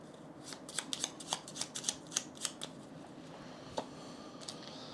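Playing cards being shuffled for the Paladins of the West Kingdom board game, a burst of quick crisp riffling flicks followed by a few isolated taps, close and fairly quiet.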